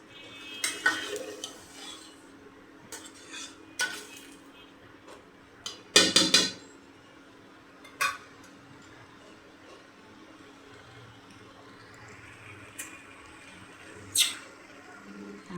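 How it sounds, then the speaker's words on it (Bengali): Noodles with tomato sauce stirred in a pan for a quick snack recipe, heard as intermittent scraping and clinking of a utensil against the pan, with a louder cluster of knocks midway, over a faint background hum. "ভালো করে মিশিয়ে দিতে হবে, টমেটো সসটা প্রত্যেকটা জায়গায় যে মিশে।"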